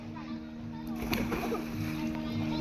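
Someone jumping into water at a birthday gathering, a single splash in the middle followed by sloshing, with children's voices and chatter around it.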